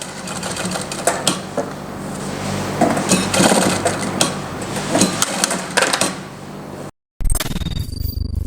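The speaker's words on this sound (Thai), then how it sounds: "ตัวนี้ก็จะเป็นการหยุดแล้วเข็มจะปักตีนผีจะยกให้อัตโนมัติ" A JACK H5-CZ industrial walking-foot sewing machine with automatic thread trimming and an auto-lifting presser foot runs steadily with a close mechanical clatter. It then stops abruptly with the needle down, and a brief clunk follows as the foot lifts.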